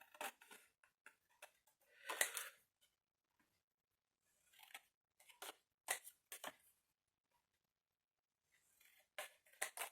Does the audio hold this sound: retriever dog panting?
no